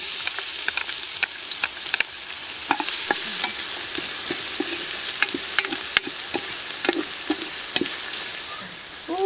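Garlic and ginger frying in oil in a pan, a constant close sizzle with frequent light clicks and scrapes from stirring, no voices.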